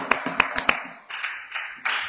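A church congregation claps during a Sunday service: a short run of sharp, uneven hand claps close by, followed by softer, scattered clapping.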